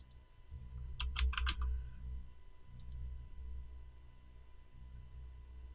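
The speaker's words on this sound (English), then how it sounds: "I just got a new mechanical keyboard and it's pretty loud" Clicky typing on a loud new mechanical keyboard, several quick bursts of keystrokes close up with pauses between, over a low background hum.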